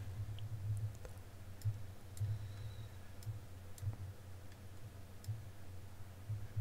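Soft, faint computer mouse clicks from editing in Sound Forge audio software, spaced a second or so apart over a low steady hum, with no talking.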